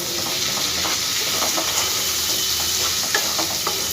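Tomato paste and ginger-garlic paste frying with onions in a pan, a steady loud sizzle and hiss with occasional soft stirring scrapes, close and continuous with no talk.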